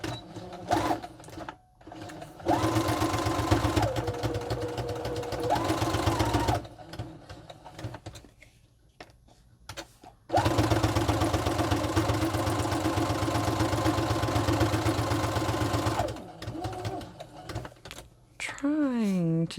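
A sewing machine running a straight stitch along a pocket, sewing in two long steady whirring runs with a pause and clicks between, close and loud.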